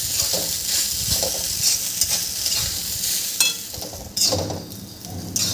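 Street-style veg fried rice being stir-fried with dark soy sauce, a loud close sizzle with repeated spatula scrapes and clatters against the pan, no voices.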